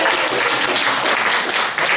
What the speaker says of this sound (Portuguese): Palmas pro